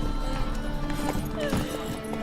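A horse's hooves clip-clop at a brisk trot in The Witcher 3: Wild Hunt, a short run of rhythmic thuds heard beneath game music and a brief spoken line.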